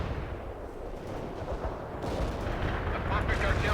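A heavy artillery barrage in the video game World in Conflict, deep booming blasts rumbling and overlapping, growing denser and louder toward the end, with some background voices.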